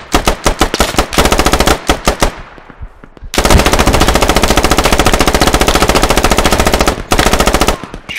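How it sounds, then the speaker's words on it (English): Loud, close automatic gunfire in the Squad video game: rapid bursts of shots, a brief lull with echoing decay, then a long sustained stream of fire and a final short burst. "Shots coming in from the east."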